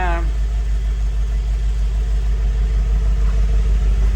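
A 2024 Mercedes-AMG G63 engine idles steadily nearby, a deep, muscle-car-like throbbing rumble that holds constant throughout.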